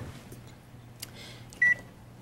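A microwave oven is set for four minutes: soft button presses and light clicks over a low hum, then a single short, clear beep.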